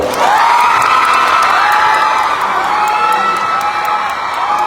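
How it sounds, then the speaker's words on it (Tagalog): A crowd at the Queen of Barili Cebu 2024 beauty pageant cheers and screams loudly and steadily, with high shrieks and whoops sustained throughout and no talk over it. "And the crowd goes wild."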